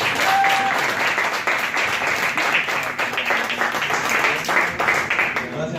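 An audience applauds at an Italian seminar on managing emotional states, sustained even clapping from a room of people with some voices mixed in.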